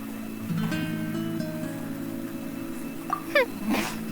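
A single short sneeze from a Genshin Impact character during the Unreconciled Stars event, heard near the end over a soft game music bed, close and brief.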